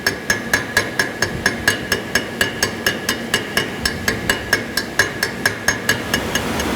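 Light, rapid hammer peening on a weld repair in cast iron makes a steady stream of small, sharp metallic taps at an even rhythm, close and fairly loud, with no talking.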